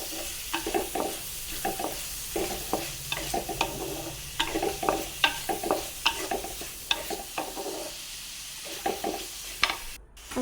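Chopped tomatoes and curry leaves being sautéed in a pan for a quail egg curry, with a soft sizzle beneath a run of close, rhythmic spatula scrapes and clatters that pause briefly near the end.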